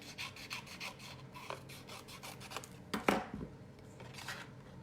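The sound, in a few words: trimming cardstock with a paper trimmer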